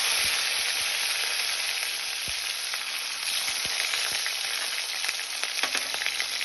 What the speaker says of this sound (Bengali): টমেটো কুচিটা একটু নাড়াচাড়া করে